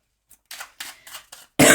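A sick woman coughs close up in a quick series of short, harsh bursts, ending in a louder, rougher cough.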